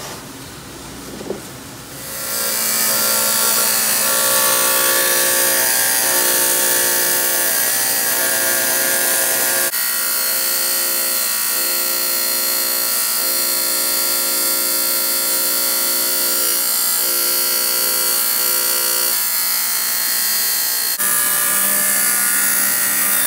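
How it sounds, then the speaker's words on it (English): A saw cuts open a Colorado geode, droning loudly and steadily with a constant pitched whine after a brief start, continuing for the full stretch with slight shifts in tone. "And now we're gonna cut it open."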